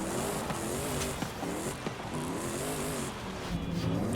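In Forza Horizon 5, a Mustang swapped with a Power Stroke diesel engine revs hard, its engine note rising and falling through repeated throttle bursts at moderate level, with brief gearshift breaks.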